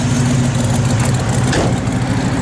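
A 1967 Chevrolet Chevelle SS engine idles close by with a steady, loud, low rumble and an even throb throughout the short stretch, and no one speaks.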